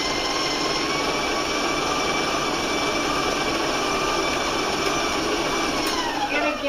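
An electric mixer whines loudly and continuously as it beats an egg into mint cookie dough, its motor tone rising slightly near the end.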